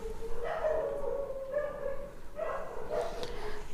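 Dogs bark outside in a residential area, a string of barks and yips that comes in bursts across the clip, fairly close and steady in loudness.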